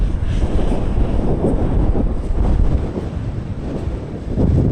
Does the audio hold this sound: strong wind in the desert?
yes